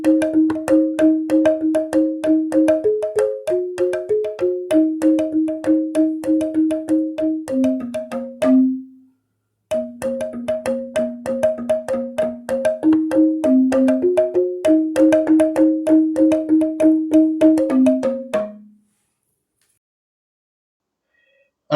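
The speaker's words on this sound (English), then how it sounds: "this is a musical instrument from the island of Bali called a tingklik." A Balinese tingklik bamboo xylophone played alone with rapid, bright, evenly struck notes in a repeating melodic pattern, two phrases separated by a brief pause, each ending with a sustained low tone.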